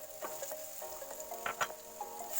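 Onion fries in a pot for Nigerian fried rice, giving a soft continuous sizzle with scattered crackles and pops, alone without talk.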